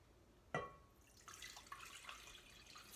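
Water runs from a tap and splashes into a pot being filled for a quick pickling brine, faint and steady after a brief clink, in a garden kitchen.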